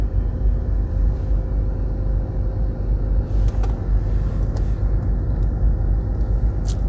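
A loaded truck rounds a deep corner on a Jamaican highway between Williamsfield and Hodges, its engine giving a continuous heavy low rumble, steady and fairly loud throughout, with a few faint higher clanks midway.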